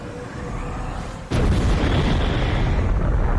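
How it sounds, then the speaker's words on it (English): A large in-game explosion from the PS2 game God of War erupts as a sudden loud blast about a third of the way in, then rolls on as a heavy, sustained rumble until the end, with no talk. "What was that explosion?"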